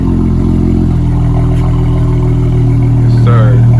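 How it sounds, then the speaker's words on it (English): Exhaust of a 2019 Dodge Charger rumbling through quad tips after a warm start, a loud, steady, bass-heavy idle close by with a slight rise near the end, under a voice. "See the quad tips. Sounding mean. And that's a warm start too."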